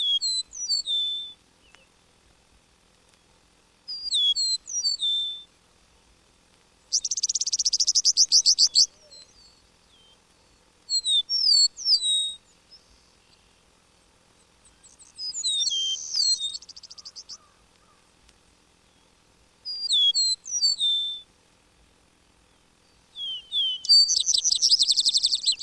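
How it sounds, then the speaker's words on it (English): Eastern meadowlark singing its clear whistled phrases from a hayfield edge, repeated every few seconds, alternating with bursts of buzzy chatter against near silence. "Next, the eastern meadowlark, whose plaintive whistles are usually given from fence post or telegraph pole bordering a hayfield."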